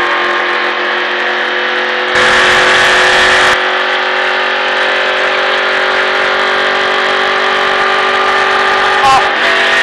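Loud, steady engine roar of a NASCAR stock car accelerating around a race track, a continuous in-car drone with a brief surge of louder noise partway through.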